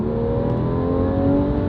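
A Porsche 911 Carrera GTS with sports exhaust rumbles in a steady, loud, deep engine drone with a smooth, continuous tone throughout.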